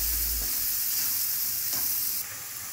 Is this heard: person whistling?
no